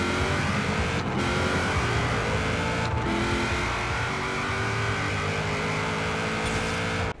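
In Forza Horizon 4, a Buick Regal holds a loud, steady engine rev at the drag strip launch, its droning whine broken by brief dips before the car launches, and no voices.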